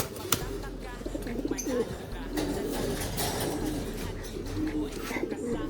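Racing pigeons coo softly in a loft, low murmuring calls repeating throughout against a busy background of rustling and faint human noise.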